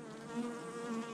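Honey bees buzz close by during a hive inspection, a steady droning hum with slight swells in pitch and loudness, heard alone without talk.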